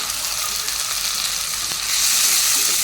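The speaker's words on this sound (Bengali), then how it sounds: "আদা রসুনটা দিয়ে দিলাম" Ginger and garlic paste hits hot oil in a pan, a steady close broadband sizzle that swells louder toward the end.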